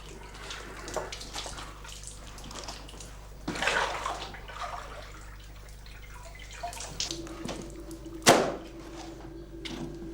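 Sheepskins are sloshed one by one through a bath of clear water at a tannery, giving steady splashing and dripping with a few louder surges and a sharp knock near the end.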